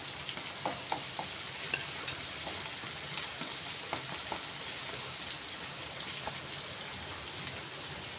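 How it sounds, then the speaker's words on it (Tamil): Garlic and onion fry in hot oil with a steady, close sizzle and crackle across the whole stretch, with faint scattered stirring clicks and no voices. "பூண்டையும் வெங்காயத்தை நல்லா வதக்கி எடுத்துக்கலாம் ரெண்டு நிமிஷம் எண்ணெயிலே வதக்கி எடுத்துக்கோங்க"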